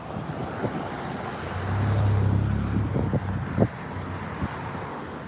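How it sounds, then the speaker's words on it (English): A single car rolls past on a residential street, its engine rumble swelling to a peak mid-clip and then falling away, outdoors with wind buffeting the microphone and a few scattered knocks. "Here's a car right at the street"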